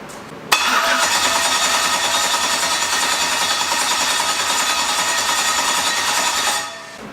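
An LS-swapped Mustang engine cranks continuously for about six seconds, a loud steady whirring churn from the starter that never catches and then cuts off.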